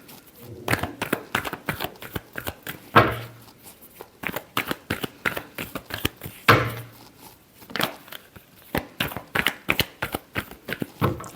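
Tarot cards are shuffled by hand in a fast, crisp run of riffling flicks and soft slaps, with brief pauses between bursts, close and clear with no talk.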